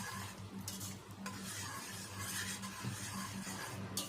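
Biryani is stirred in a pot after green chilies, coriander and mint leaves go in, giving a steady close scraping and mixing sound over a soft continuous sizzle, with no talking.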